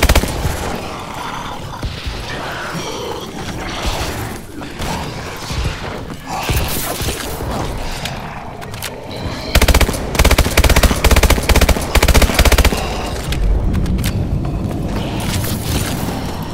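Gunfire in a Call of Duty match, with loud rapid machine-gun bursts and scattered shots over a busy background, the densest rattling volleys in the middle stretch.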